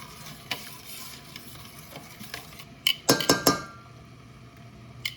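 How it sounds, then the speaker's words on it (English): Sage sausage simmering in a pan over low heat gives a soft, steady sizzle, with a short cluster of metal utensil clinks and scrapes against the pan near the middle. "we're going to just let this cook and simmer just for a few minutes on low"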